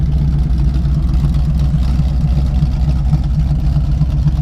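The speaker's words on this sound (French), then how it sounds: "Le moteur tourne parfaitement et il est également entièrement d'origine." A 1976 Pontiac Firebird Formula 400, all original, runs steadily with a loud, even low rumble throughout and no talk over it.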